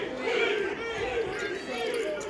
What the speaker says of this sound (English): the crowd is chanting queen